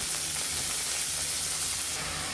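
Onions and carrots fry together in a pan, giving a close, steady sizzle with crackling hiss that continues unbroken, with no talking.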